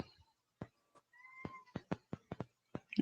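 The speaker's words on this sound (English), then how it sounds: "I hear a kitty cat." A cat meowing somewhere nearby, a few faint drawn-out mews among scattered soft knocks and clicks in an otherwise quiet room.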